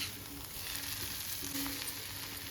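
Salted potatoes frying in oil for a Chettinad potato fry, giving a steady, even sizzle and hiss that runs unbroken throughout at a fairly soft level, with no voices.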